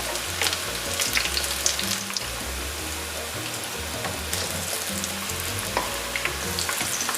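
Mixed vegetable pakoras frying in hot oil give a steady, dense sizzle and crackle throughout, close and fairly loud, with occasional bubbling pops and soft low knocks from the pan.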